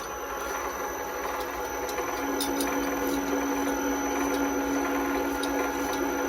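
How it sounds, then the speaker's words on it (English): Manual lathe cranked by hand while making a custom steering column, giving a steady continuous mechanical whir and hum with a sustained tone, close and even throughout with faint intermittent clicks. "This is the manual lathe, you have to crank on the handle."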